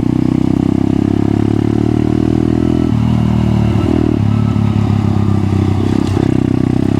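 A Crossfire CF 140/125 pit bike fitted with a big 17-inch and 14-inch wheel swap runs close by, its small single-cylinder engine chugging in a rapid steady pulse with a few brief revs and rattles.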